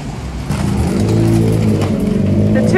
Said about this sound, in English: So we'll get a tuk-tuk